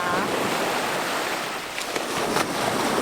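Sea waves wash onto the beach at Koh Samet, a steady broadband rush of surf with some wind noise on the microphone, continuous and fairly close.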